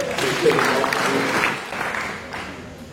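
A church congregation claps and cheers to acclaim the Lord, a dense wash of applause that swells and then fades slightly over a few seconds, with voices mixed in.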